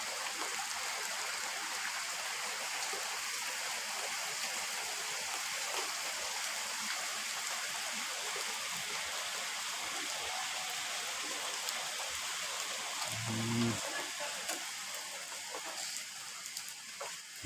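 A light afternoon drizzle falls over a village in Tawangmangu, Karanganyar, making a steady, even hiss of rain that holds for the whole stretch, with a short low thump near the end.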